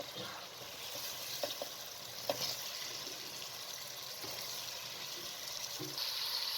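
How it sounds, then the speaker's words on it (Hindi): Masala with mashed tomatoes and cauliflower fries in a pan, a soft steady sizzle with a few faint spoon clinks and stirring taps, quiet and alone without any talk. "अब मसाले को अच्छे तरीके से भून लें।"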